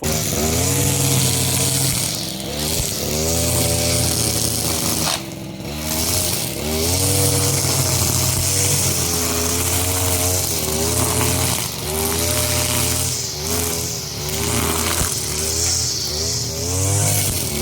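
A brush cutter's small two-stroke engine runs steadily, close and loud, repeatedly revving up and settling back down in uneven cycles with no voices.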